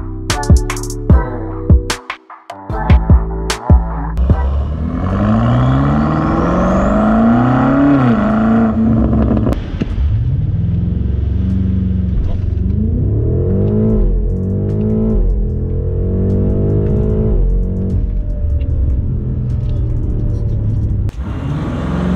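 A BMW M8 with an Akrapovic exhaust gives several sharp revs with crackles, then pulls away in loud rising and falling gear sweeps with a deep rumble, close and alone.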